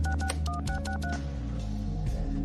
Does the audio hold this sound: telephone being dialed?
yes